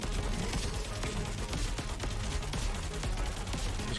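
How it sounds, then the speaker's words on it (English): A boss in the Xbox One game Freakout: Calamity TV Show fires rockets in rapid bursts of blasts and explosions. They come thick and loud over busy game sound and keep going throughout. "You can see he's launching some more rockets."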